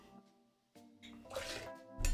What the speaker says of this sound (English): Little heavy pour